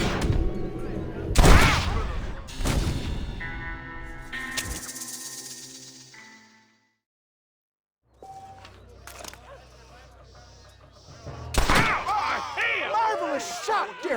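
Gunfire in the Western video game Red Dead Redemption: loud, close shots and a burst of rapid fire, then a brief silence before more bangs crack over game dialogue and shuffling effects.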